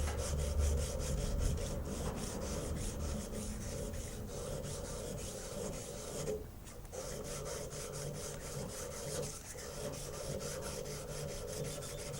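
Hand sanding a knife blade with 400 grit sandpaper, worked up into a curve with a push stick: a steady, continuous rasping scrub of rapid back-and-forth strokes, close and alone with no talk, briefly pausing midway.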